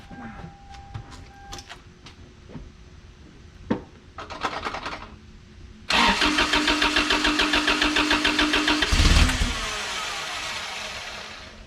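A mini truck engine cranks with a few clicks and whirs, then catches and roars into a steady, loud idle with rhythmic rattling close by.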